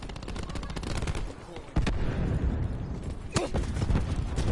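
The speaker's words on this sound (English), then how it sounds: "Cluster grenade going out." Cluster grenade blasts in a level-grinding video game, sharp explosive bursts at the start and two loud cracks later over a continuous rumble of game noise and rapid popping.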